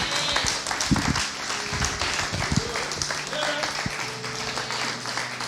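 A church congregation applauds during a Pentecost sermon, with scattered clapping and cheering swelling beneath the preacher's loud, continuous voice in a reverberant hall.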